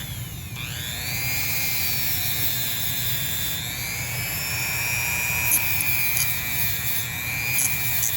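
A handheld Dremel rotary tool spins a fiberglass wheel at high speed, giving a steady, close, whining drone with shifting pitch that runs without a break throughout.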